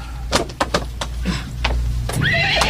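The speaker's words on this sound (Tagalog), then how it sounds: "Kasaba ng kabayo" A horse drawing a tartanilla carriage whinnies near and loud, with a few hoof clops and rattling knocks before the call.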